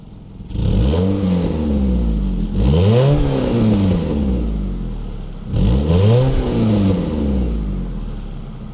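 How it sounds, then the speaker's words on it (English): 2002 Mitsubishi Lancer with a performance muffler, revved three times while standing, each blip climbing sharply then falling back to a low idle, loud and close with no talking. "here is the sound comparison of before putting on the performance muffler and after"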